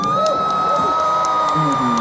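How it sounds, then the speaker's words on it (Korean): Concert crowd at a fan meeting talk session, cheering and whooping loudly and steadily throughout, with shrill shouts rising above the continuous roar. "박수."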